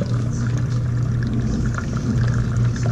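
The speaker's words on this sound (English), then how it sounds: "Okay, so here we are on a drain cycle." Steady rushing and gurgling of water in a dishwasher drain cycle through the air gap and drain hose to the garbage disposal, with a constant low hum throughout.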